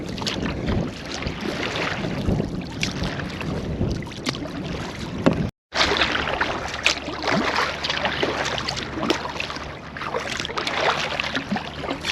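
A kayak on a solo multi-day trip from Georgia to Titusville, Florida paddles across open water, with rhythmic splashes and water rushing under steady wind noise, close and continuous apart from a brief dropout.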